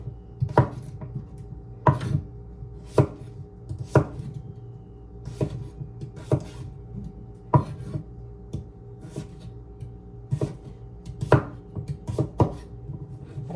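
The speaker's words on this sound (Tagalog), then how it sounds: "Ganito po itong hiwa ko mga kasimple." Knife slicing raw green papaya on a cutting board, about a dozen sharp close chops at an uneven rhythm, each a crisp knock against the board, with no voices.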